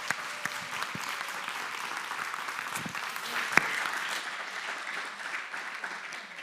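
A church congregation breaks into steady applause during a Sunday service, a continuous wash of clapping that holds fairly even throughout with a few sharper individual claps standing out.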